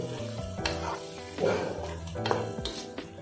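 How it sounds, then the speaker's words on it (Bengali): Goat meat masala with cumin powder is stirred in a pan over a steady close sizzle, with a few soft scraping strokes and a faint tonal hum running underneath. "দিয়ে মোটামুটি আরও 5 থেকে 7 মিনিট আমি একটু নাড়িয়ে নেবো"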